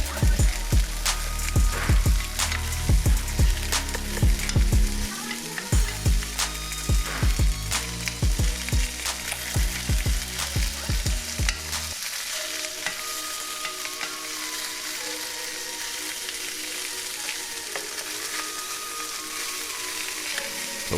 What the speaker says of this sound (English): We're just gonna sweat these a bit while Bartwurst cook